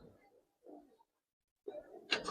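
Giribaz highflyer racer pigeons cooing in a loft, soft low murmuring coos in short bursts with gaps of quiet, ending in a louder, brighter burst of sound close by.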